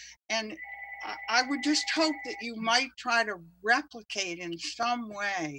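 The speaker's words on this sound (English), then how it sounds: "I'm sorry for the phone." A telephone rings with steady, held electronic tones during a historical commission meeting about demolishing a long old house with a tall cross-hip roof, sounding under continuous close speech.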